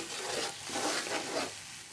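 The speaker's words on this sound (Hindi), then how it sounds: "अब मैं इनको अच्छे तरीके से भून लूँगी।" Spiced gravy for chana dal with pumpkin, seasoned with crushed red chili and turmeric, is fried and stirred in a pan, giving soft scraping strokes over a low hiss.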